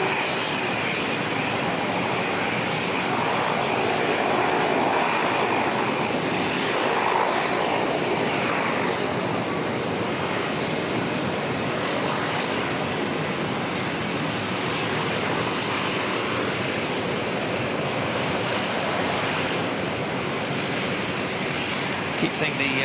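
An aircraft arriving from Blenheim at Auckland Airport gives a steady, broad engine roar that holds at an even level for the whole stretch, with a slight swell near the middle.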